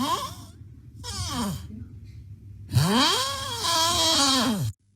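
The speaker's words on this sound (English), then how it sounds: "His snoring is like a door closing." A sleeping person snores loudly and close, with several long rasping, groaning breaths separated by short silences, ending abruptly.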